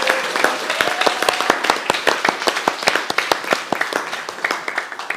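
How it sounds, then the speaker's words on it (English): Clapping from a modest audience, with individual claps standing out in a brisk, slightly uneven rhythm that carries on steadily to the end. "I think we should give them a big round of applause."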